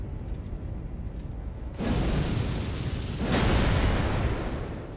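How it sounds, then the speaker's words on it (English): A massive explosion from the Ghost Flame Ignition spell in Elden Ring, a loud sustained burst of roaring fire that swells twice over about three seconds, with no voices. "That's a pretty big explosion."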